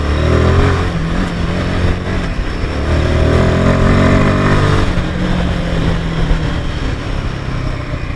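Royal Enfield Himalayan 450 motorcycle on a test ride, its engine droning loudly and continuously with rising and falling revs under heavy wind noise, close up.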